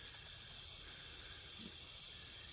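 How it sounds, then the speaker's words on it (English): Running tap water splashes steadily into a sink as a mushroom is rinsed under the stream, a continuous close hiss of flowing water with no talk. "I'm putting my mushroom in water."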